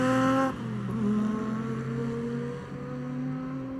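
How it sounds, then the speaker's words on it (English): A gold Hakosuka drives on the TC1000 race track, its engine holding a steady, fairly loud drone that eases slightly in pitch after a brief rise, with no voices over it. "This gold Hakosuka as well is looking so good and actually sounds really, really great."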